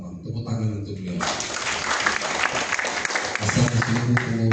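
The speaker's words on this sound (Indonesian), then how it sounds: "Tepuk tangan untuk beliau." An audience at a gathering on imam and Friday preacher competency at Istiqlal Mosque breaks into applause, a dense clatter of hands that starts after a brief spoken opening and fades as talk resumes.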